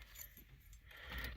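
Keys jangle close up as they are pulled from a pocket beside a 1986 Oldsmobile Firenza Cruiser with a rebuilt steering column, a continuous soft metallic rattle that swells toward the end, with no talking.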